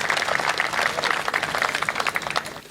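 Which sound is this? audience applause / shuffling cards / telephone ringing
audience applause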